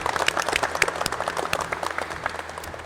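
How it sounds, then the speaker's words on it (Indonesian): Applause from a class of students in an automotive lesson, a dense patter of many hands clapping steadily throughout, moderately loud and close. "Tepuk tangan untuk semuanya."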